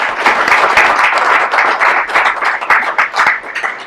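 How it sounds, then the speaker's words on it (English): A loud, close burst of audience applause at a community candidates' night, made of dense overlapping hand claps that stay steady for several seconds. "They deserve a round of applause."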